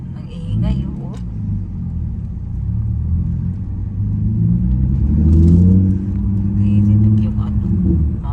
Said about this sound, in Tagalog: Sinakay ako sa kanyang sports car na maingay.